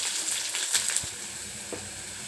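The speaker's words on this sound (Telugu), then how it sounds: "వేసి ఇందులో ఉల్లిపాయ, పచ్చిమిరపకాయ, కరివేపాకు వేసి వేయించుకోవాలి." Onion, green chilli and curry leaves frying in hot oil for a brinjal pulusu, a steady close sizzle with a couple of soft stirring knocks.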